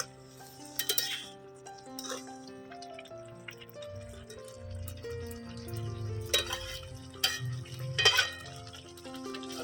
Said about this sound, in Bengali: ঢাকাটা খুলে একটু নেড়ে চেড়ে নিলাম।